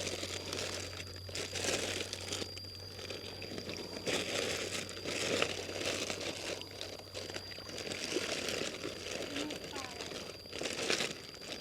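Plastic fish bags crinkling and rustling by a pond while tilapia are released, with irregular close crackly bursts, faint water sounds and occasional talk.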